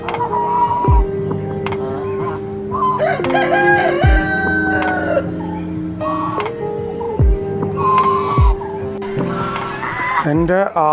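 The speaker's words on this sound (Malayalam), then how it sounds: "കോഴിയുടെ ഒച്ച കേട്ടവനെ" A rooster crows repeatedly, loud and close, several drawn-out calls with clucking fowl around it, in a lively outdoor setting with music playing, and no one speaking.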